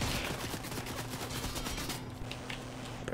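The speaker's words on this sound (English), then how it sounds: "he's shooting at us" Rapid gunfire rattles in a video game match, a fast burst of repeated shots heard fairly faint and steady for a couple of seconds before breaking off into a few scattered sounds.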